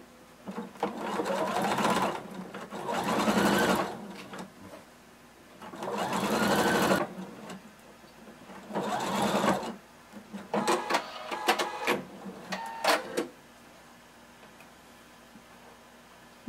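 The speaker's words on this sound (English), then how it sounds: "we're going to sew using 5/8 of an inch seam allowance" Sewing machine stitching a fabric seam with backstitch, whirring in several bursts of a couple of seconds each, then shorter stop-start runs and ticking, close and steady, no talk.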